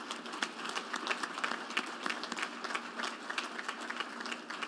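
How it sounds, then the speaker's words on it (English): An audience at a ship christening in San Diego applauds steadily, many hands clapping in a dense, even patter that continues throughout at moderate volume. "a big round of applause for our soloist"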